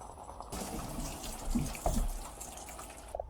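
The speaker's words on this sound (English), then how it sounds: "More rain!" Steady broadband rush of falling rain on a small sailing boat, close and fairly loud, with a few splashes and drips, ending abruptly.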